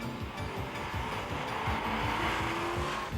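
A heavy car accelerating hard toward 100 km/h on a slippery road gives a steady engine drone with rhythmic low pulses, loud and close, and no voices are heard.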